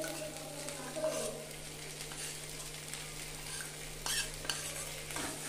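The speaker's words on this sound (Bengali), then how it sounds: "মশলাটা দিয়ে আলুর সঙ্গে এভাবে একটু মিশিয়ে দেব" Spice paste is stirred into lightly fried new potatoes in a pan for alur dum, a soft sizzle with scraping and clinking of a spoon against the pan, faint and close, with no talking.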